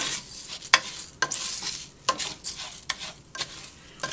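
Arborio rice browning in butter for risotto sizzles softly in the pan while being stirred, with repeated scraping strokes at an irregular rhythm, close and fairly quiet, with no talking.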